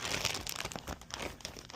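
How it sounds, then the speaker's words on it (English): Plastic packaging around an MWR air filter for a 2004 Ducati Monster 620 is torn open by hand, giving close, faint crinkling and ripping with crackly bursts throughout. "I'm gonna get into this part of the packaging now."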